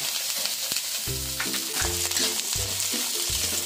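Vegetables and pancit noodles fry in a wok, with a constant sizzle under repeated stirring and tossing clatter, close and moderately loud with no talking.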